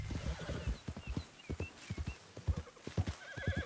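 A horse in Red Dead Redemption 2 clip-clops along in a quick, steady hoof rhythm and lets out a short neigh, close and clear.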